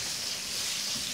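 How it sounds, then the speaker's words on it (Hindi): Green chillies fry in a hot pan with oil, making a steady, dense sizzle that holds evenly through the whole brief stretch, close and moderately loud. "हल्का सा फ्राई इसको करेंगे।"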